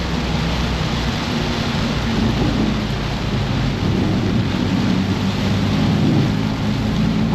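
Heavy rain pours down at Pocono Raceway during a wet trackday, a dense, steady roar of water with low rumbling, loud and continuous with no voices.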